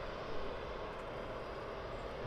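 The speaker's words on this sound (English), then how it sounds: "As you can hear, the APU's fired up." The auxiliary power unit of a Boeing 767 runs at Birmingham Airport, giving a faint, constant rushing hum with no change in level over a couple of seconds and no voices.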